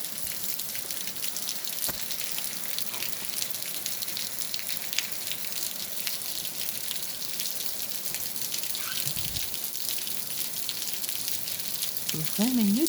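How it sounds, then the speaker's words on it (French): Steady rain pours down outside a home in Capestang during a moderate to strong March thunderstorm, a constant broadband hiss with scattered drip spatters and a few faint background sounds, continuous throughout. "Et regardez toute la pluie, elle tombe."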